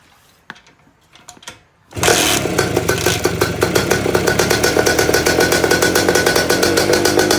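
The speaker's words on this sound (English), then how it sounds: "I'm gonna start this bike cold" A 1973 Harley-Davidson Aermacchi motorcycle cold-starts on choke: a few clicks and a cranking attempt, then the engine catches and settles into a loud, rapid, steady idle.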